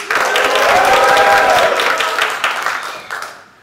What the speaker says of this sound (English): clap your hand and cheers, it will make a big noise